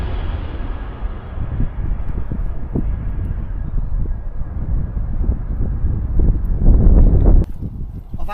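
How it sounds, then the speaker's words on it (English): Strong wind buffets the microphone outdoors on a hike at the Shugborough Hall Estate, a continuous low rumbling roar that swells louder near the end before easing off. "the wind was just getting a little bit too much"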